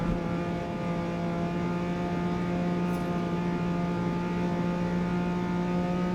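A Nissan GT-R racing car engine in Forza Motorsport 8 held at steady high revs, a loud continuous harmonic drone without pauses or gear changes.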